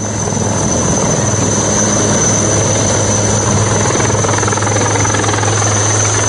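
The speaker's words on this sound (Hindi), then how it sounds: "हेलीकॉप्टर से भी लगातार रेस्क्यू ऑपरेशन चलाया जा रहा है" Army rescue helicopter flying over floodwaters, a steady continuous rotor and engine drone that stays loud and unbroken throughout with no voices.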